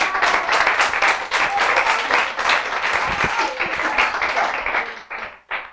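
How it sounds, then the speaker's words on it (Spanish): An audience claps for participants at a mental-training sales seminar, a dense, loud burst of applause that holds steady for several seconds before thinning out into a few last claps. "Aplauso para ellos."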